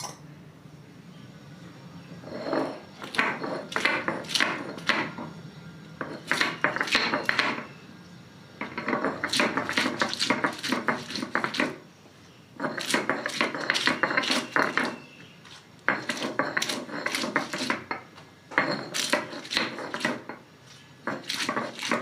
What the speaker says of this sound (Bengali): যে কাঁকড়াগুলো আমি কুটে নিয়েছি সেই কাঁকড়াগুলো এখন এবার বেটে নেব